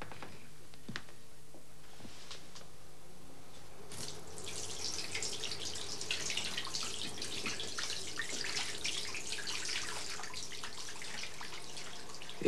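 A water tap runs with brown water, starting as a faint trickle with scattered drips and then opening into a steady, full rushing stream that continues to the end.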